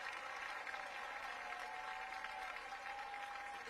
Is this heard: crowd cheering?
yes